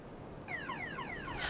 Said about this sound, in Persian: دزدگیر ماشین منه.